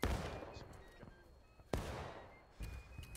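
Video game gunfire crackles faintly around Piper Farm, with a sharp report at the start and two more distant-sounding shots later, separated by quiet ambient gaps.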